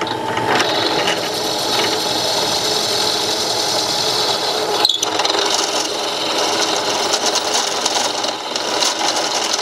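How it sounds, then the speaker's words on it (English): A drill bores a hole in a steel exhaust pipe for an oxygen sensor bung, a loud continuous grinding, whirring mechanical noise with a brief break midway, close up. "I'm gonna drill it to this size, so then I can put that step in there"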